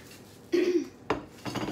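Lao fish salad with chili powder, galangal, lime leaf and red onion being gently mixed in a bowl: three soft, brief utensil clinks and scrapes, close and quiet.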